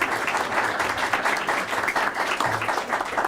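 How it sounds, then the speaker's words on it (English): An audience at a high school soccer event gives a round of applause, dense steady clapping for a few seconds from a moderate distance. "Give her a round of applause."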